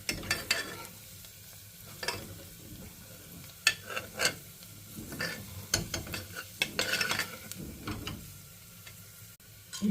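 Tomatoes and spices go into cumin frying in a pan, giving a low steady sizzle broken by sharp clinks and scraping stirs at irregular intervals, with no talking.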